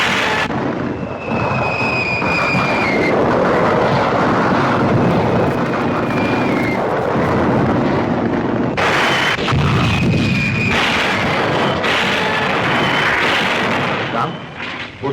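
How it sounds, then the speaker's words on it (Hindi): Heavy artillery shelling in a Hindi film battle scene, a sustained roar of booming blasts and rumbling fire with whistling streaks overhead, loud and dense throughout, with voices mixed in. "अपनी भारी तोपों से हिंदुस्तानी फौजों पर गोलाबारी शुरू करो।"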